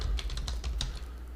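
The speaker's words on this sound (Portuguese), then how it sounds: "Então eu vou digitar qualquer coisa aqui, eu vou digitar" Someone types a search word on a computer keyboard: a quick, close burst of several clicking keystrokes over about a second, then a brief pause, with no speech.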